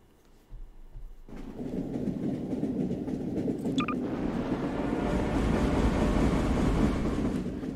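A train ride in the video game Garry's Mod rumbles steadily after a sudden start, a continuous loud low clatter and rolling hum with a brief high squeal partway through.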